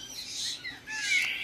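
Small birds in a bird shop give faint, high, thin chirps and whistled calls in short bursts, with a brief pause between them and no talking.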